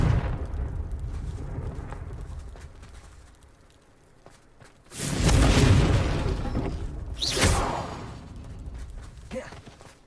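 Confringo fire spell explosions in Hogwarts Legacy on Nintendo Switch: two loud bursting booms a couple of seconds apart, the first broad and sustained, the second sharper, over a quieter rumbling game background.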